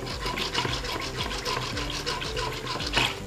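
Yogurt and water are stirred together in a bowl for kadhi, giving a steady wet scraping and sloshing with a rhythmic back-and-forth whisking.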